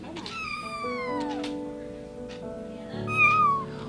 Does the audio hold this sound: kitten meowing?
yes